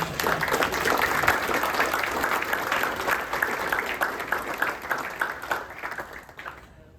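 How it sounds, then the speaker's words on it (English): An audience applauds a group of interns at a community presentation, a crowd of hands clapping steadily at moderate volume before thinning and fading away over the last couple of seconds. "give you a round of applause for all of your hard work"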